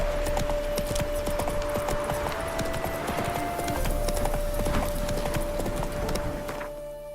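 Roach, Geralt's horse in The Witcher 3, trots with rapid, rhythmic hoof clip-clops close by, accompanied by jingling tack and a steady tonal hum before the hoofbeats fade at the end.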